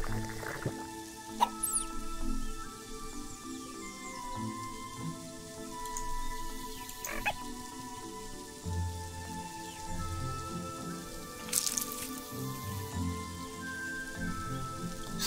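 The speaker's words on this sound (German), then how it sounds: "Das Wasser einfach pumpen, Stück für Stück." Water being pumped in the video game Silence, with scattered dripping and splashing ticks over a soft watery bed, a few sharper drops standing out, while a voice speaks over it.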